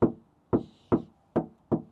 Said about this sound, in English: this is a Maxus door sound.